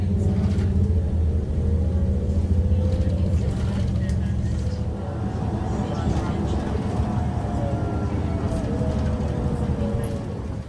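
A Mississauga city bus on route 19 heads south from Square One toward Port Credit, with a steady low engine rumble and road noise throughout and a voice talking over it.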